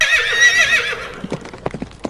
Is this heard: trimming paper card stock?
no